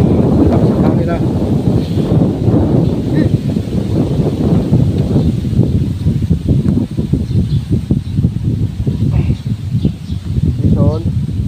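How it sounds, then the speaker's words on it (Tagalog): Strong wind buffets the microphone in gusty, rumbling bursts while a person speaks underneath throughout. "Ang lakas ng hangin ha."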